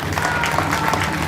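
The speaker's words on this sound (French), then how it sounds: "de vous demander de l'applaudir" Applause from the audience at the opening address of the JAAD 2024 ceremony, a short burst of many hands clapping together, fairly close and steady throughout, with a low murmur of voices underneath.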